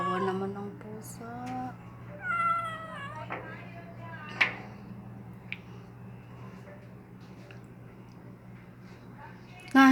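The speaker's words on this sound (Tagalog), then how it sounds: "Oh, hala, kawawa naman ang pusa." A cat stuck up high meows repeatedly, several plaintive rising and falling calls close by, with a few sharp clicks and a low background hum.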